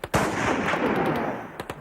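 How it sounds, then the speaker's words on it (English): Tribesmen firing guns in the Khyber Pass on the northwest frontier: a sharp nearby shot opens a dense, roaring burst of gunfire that sustains for over a second, with a couple of crisp later reports. "these days the tribesmen use their firearms the way we use fireworks."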